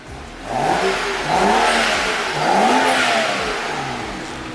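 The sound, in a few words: BMW car engine revving, stock mufflers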